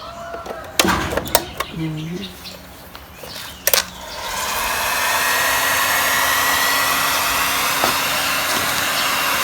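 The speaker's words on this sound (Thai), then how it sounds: "เป่าให้เขาอ่อนตัวหรือว่าให้เขาให้แข็ง" A hair dryer is switched on and blows steadily on strips cut from plastic bottles, a loud continuous whoosh after several seconds of clattering handling noises, with a voice briefly heard early on.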